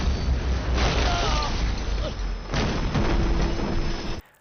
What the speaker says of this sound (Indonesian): sebuah drone mendekat ke arahnya dan meledak seketika